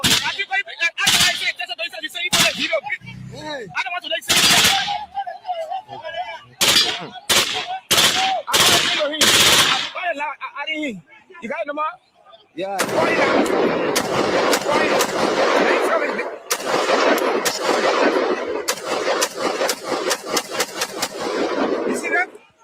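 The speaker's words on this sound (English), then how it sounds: "These are all live bullets." Police firing live bullets in Liberia: sharp gunshots ring out singly and in quick bursts, then dense sustained automatic fire crackles on, with people speaking briefly between shots.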